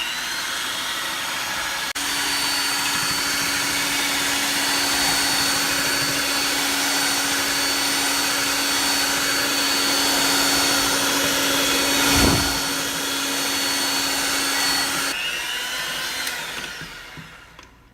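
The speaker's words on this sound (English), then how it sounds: "Now keep beating it until stiff peaks form." An electric mixer whips egg whites with granulated sugar for macarons, a steady motor whine with a constant hum running for about thirteen seconds, close and loud, then stopping.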